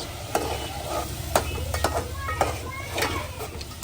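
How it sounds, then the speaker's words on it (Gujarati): Spiced curry of small onions stirred in a pan, with scraping spoon strokes and clinks against the pan over a soft sizzle, close and brief. "અને હવે આને કરી નાખીએ મિક્સ"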